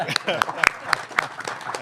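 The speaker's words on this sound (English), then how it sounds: "Let's clap for Sean." Audience applause at a basketball Hall of Fame press conference, scattered claps rising briefly and mixing with a speaker's voice at the microphone.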